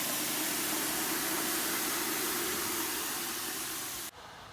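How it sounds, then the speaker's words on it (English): Steam hisses steadily from water poured onto hot sauna stones in an Estonian sauna, a broad, loud, even rush that fades slightly before cutting off abruptly near the end. "if you pour water on those stones, then it creates an ideal environment for bathing as well"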